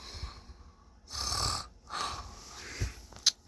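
A man asleep at night snores in slow, rough rattling breaths, a couple of long drawn snores with a quieter pause between and a brief snort near the end, close and fairly soft.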